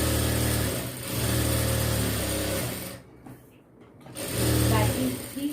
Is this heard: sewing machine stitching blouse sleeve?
yes